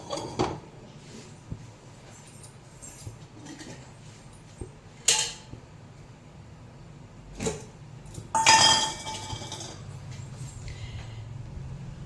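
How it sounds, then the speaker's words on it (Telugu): A mukudu, a kadai-style pan, is set down on a lit stove, giving a few metallic clanks and a brief scraping rattle against a low, steady background hum. "ఇప్పుడు స్టవ్ వెలిగించి మూకుడు పెట్టుకుందాం"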